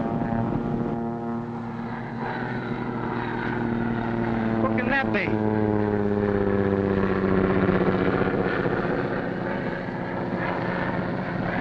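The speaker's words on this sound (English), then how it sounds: "It's only Barton's plane." Propeller airplane flying overhead on an island, a steady droning engine hum with rising and falling pitch that swells and fades over several seconds while people talk.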